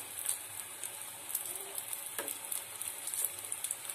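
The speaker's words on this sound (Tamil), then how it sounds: "இப்ப கட்லெட் இது ஒன்னொன்னா சேர்த்து ஃப்ரை பண்ணி எடுத்துக்கலாம்." Sweet potato cutlets sizzle in oil over a medium flame, a steady bright crackle with faint occasional pops and no voices.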